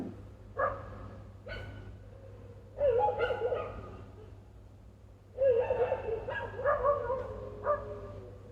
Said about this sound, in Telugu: ఈ కుక్కలు ఈ టైంలో నా మీద పగబట్టినట్టున్నాయి. ఒకటే అరుపులు నాన్ స్టాప్గా